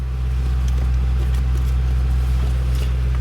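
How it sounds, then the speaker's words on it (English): 2008 Ford Mustang GT V8 idling after being started, a loud, deep, steady engine rumble heard close up from inside the car without pause. "key in, clutch on, and that big V8 fires to life"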